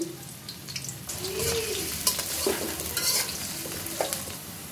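Chopped onions with garlic fry in oil in a pan, sizzling steadily while a spoon stirs and scrapes through them, with a few clinks against the pan, all close up and with no voices.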